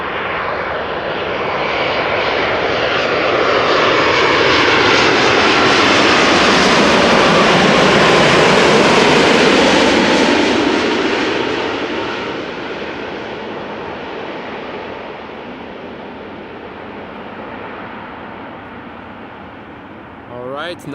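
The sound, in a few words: Boeing 777 jet engines, airplane arriving at Amsterdam Schiphol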